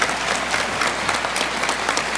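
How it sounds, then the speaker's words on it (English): Sustained applause from a large audience at an awards ceremony, dense and even clapping filling the room at a steady level throughout. "If you could give her a big round of applause,"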